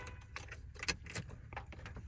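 Car keys jangle in a few soft, brief bursts close by inside a Peugeot parked on a rainy day, with light rustling between them and no talk.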